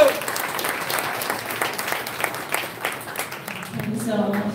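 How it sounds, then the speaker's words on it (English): Audience applause greets a women's lightweight boxing champion at a pre-fight press conference in Philadelphia, a steady spatter of claps lasting several seconds, with a voice speaking over it near the end. "Ladies and gentlemen, big round of applause for Katie Taylor."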